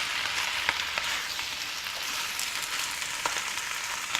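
Wombok and bean curd stir-frying in a pan for Malaysian chai choy mixed vegetables, a steady close sizzle with a few light clicks of stirring, no voices.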